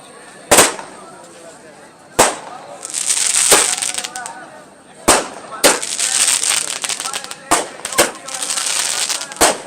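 Sharp firecracker bangs burst one after another at irregular intervals, each trailing into crackling and fizzing, with loud continuous noise between blasts, welcoming the inaugural Vande Bharat train at Tikamgarh.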